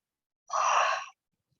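A single breathy human yawn, close and clear, lasting about half a second with no other sound around it.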